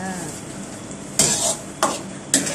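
Tamarind chili paste bubbling in a pan gives a low steady simmer, cut by three sharp spoon scrapes near the end, heard close up with no one talking.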